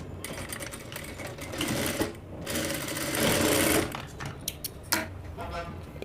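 A sewing machine stitches a pocket onto chudidar pants in quick bursts of rapid mechanical clatter, stopping and restarting, with small handling noises between runs.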